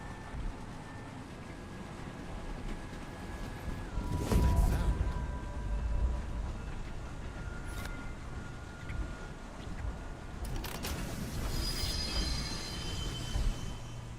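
Train cars rolling along rails in a video game, a steady low rumble with rising metallic clatter and brief bursts of squeal, closer and louder around the middle and again near the end.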